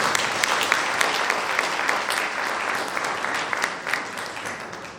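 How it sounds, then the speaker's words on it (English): Sustained, even applause from a large audience at a 2019 CCS graduation ceremony in Columbus, a steady wash of many hands clapping for the full five seconds. "give them a round of applause today, please"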